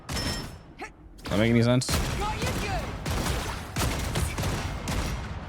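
A big gun fires in a video game, letting off rapid, loud bursts of shots close up. Someone talks over the gunfire.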